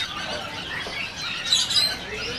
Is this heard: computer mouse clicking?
no